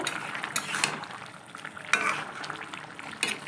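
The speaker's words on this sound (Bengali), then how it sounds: "এইবারে মাছটা ঢেলে দেবো এর মধ্যে" Pieces of rohu fish slide into a pan of boiling fish curry with pea pods, setting off bubbling and sizzling along with utensil scrapes and clinks against the pan, close and moderately loud.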